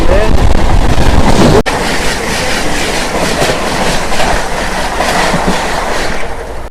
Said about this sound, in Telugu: ఇక్కడ చూసుకుంటే మన గోల్కొండ ఎక్స్ప్రెస్ వెళ్తుంది.